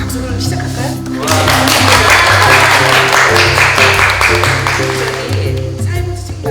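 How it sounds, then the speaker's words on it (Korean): An audience claps to open a social welfare book-club lecture, a dense burst of applause that rises and holds over a steady low musical backing, then thins toward the end. "박수로 시작할까요?"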